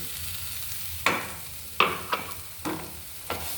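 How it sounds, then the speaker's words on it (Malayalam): Prawns fry with garlic, curry leaves and green chili in a pan, a soft steady sizzle broken by five sharp scraping stirs spaced about a second apart. "നമുക്ക് നന്നായിട്ട് ഇളക്കി കൊടുക്കാം."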